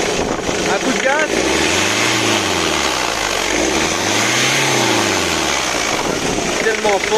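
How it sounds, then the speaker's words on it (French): Car engine revved twice, rising and falling in two long sweeps, while checking for a turbo boost pressure leak from a burst hose; loud and close, with people talking over it. "Un coup de gaz."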